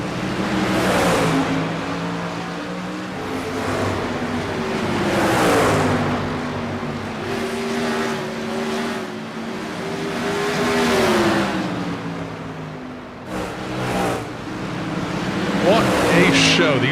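Sprint car engines roaring around the track in iRacing at Five Flags Speedway, a loud continuous droning whine that rises and falls as the cars lap, with a commentator talking over it.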